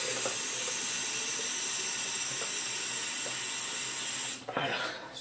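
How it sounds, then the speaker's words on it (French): Water runs steadily into a small vaporizer, a continuous close hiss and trickle that cuts off near the end, followed by a few light handling knocks. "J'ai dit un peu d'eau, j'ai presque rempli le truc."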